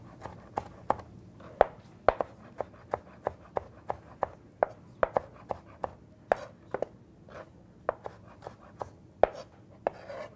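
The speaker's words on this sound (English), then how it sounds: "rest the knife against your knuckles and chop away" Sharp knife strikes chopping vegetables on a cutting board for a barley, corn and pepper salad, a steady run of close, crisp taps at an uneven quick rhythm with no talking.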